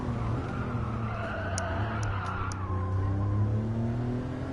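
Tyres skid and squeal as a car brakes hard into a corner in Gran Turismo 7, a loud screech over the steady drone of the engine.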